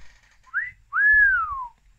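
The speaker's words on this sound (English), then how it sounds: "This calls for a little celebration whistle." A person whistles a short celebratory tune, a brief rising note followed by a longer clear note that falls away, alone and close.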